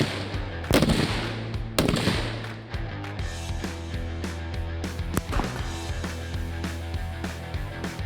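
Shots from a Ruger SFAR rifle at an outdoor shooting range crack loudly and close, several sharp reports at irregular intervals over a low steady background hum.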